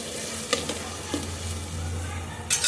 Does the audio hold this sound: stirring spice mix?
yes